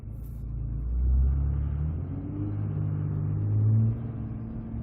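A truck on 37-inch winter tires drives on snow, its engine rumbling low and swelling twice as the RPMs rise when the tires briefly spin, close and steady with no talk.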